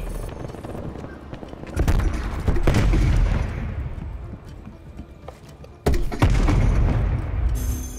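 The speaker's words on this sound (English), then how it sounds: "Shooting a rocket" A rocket fired in a video game, loud booming launch bursts with broadband rumbling blasts and decaying echoes, two main heavy impacts separated by quieter stretches, close and forceful.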